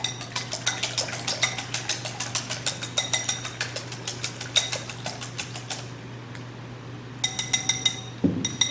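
Four eggs are lightly beaten in a bowl, making a rapid, regular stream of clinking strikes against the bowl. The strokes pause briefly, then start again.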